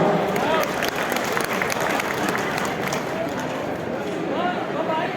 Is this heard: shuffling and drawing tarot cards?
no